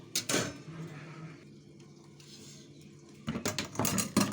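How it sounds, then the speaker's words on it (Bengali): A bottle gourd is shredded in a hand-operated kitchen machine, heard as bursts of clattering, rattling mechanical cranking at the start and end with a quieter stretch between. "আমি লাউটাকে ছুলে এই মেশিনে করে কুচিয়ে নেব"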